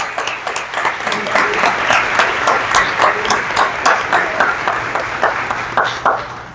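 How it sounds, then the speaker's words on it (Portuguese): An audience at the opening of an academic seminar on climate change and social sciences applauds the production team, a full, lively round of many hands clapping for several seconds, with a faint steady hum underneath. "eu queria chamar uma salva de palmas para eles"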